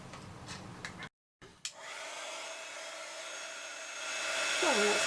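A heat tool blowing on embossed Christmas bauble card, a steady airy whir starting after a brief cutoff and rising slightly in loudness, close and continuous with no talk.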